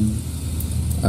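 A fan's steady broadband whoosh and low hum fill an audio recording at a constant level, with a brief tonal voice fragment near the end.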